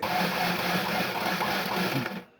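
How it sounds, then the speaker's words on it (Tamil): A small-pedal sewing machine fitted with a 3-in-1 presser foot runs a normal stitch in one continuous, even mechanical whir close to the mic, then stops abruptly. "நமக்கு இப்போ மிஷினில் நார்மல் தையல் எப்பவும் போல் தச்சு கொடுக்குது"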